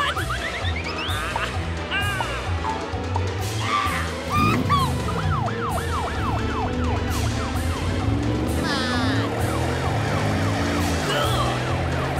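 Cartoon fire truck siren wailing loudly in rising and falling sweeps, repeating over a rumbling engine and bright clanging accents, close and continuous.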